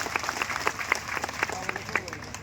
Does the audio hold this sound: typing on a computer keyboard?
no